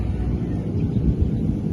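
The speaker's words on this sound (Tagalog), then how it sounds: "medyo mahangin dito" Wind blowing outdoors, a steady low buffeting roar hitting the microphone with gentle gusty swells and no voices.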